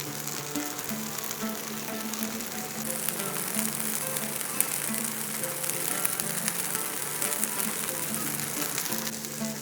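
Food fries in ghee in a pan on a gas stove for an upvas fasting recipe. A steady, close sizzle with fine crackling holds throughout, with no talking.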